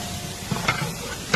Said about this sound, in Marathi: दहीत मिरची चांगली फ्राय करायची.